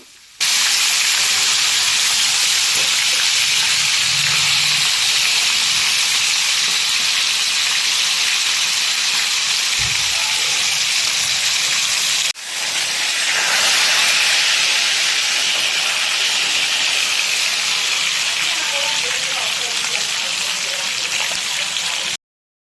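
Rohu fish pieces fry in a pan with a loud, continuous sizzling hiss that holds steady throughout, broken only by a brief dip midway, close and without talk.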